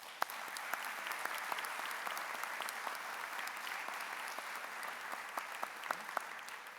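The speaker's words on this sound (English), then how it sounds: "Let's give all of the award recipients one more round of applause." Steady audience applause for award recipients at a university State of the Campus address, a dense wash of many hands clapping with sharp individual claps popping out, filling the hall evenly from start to finish.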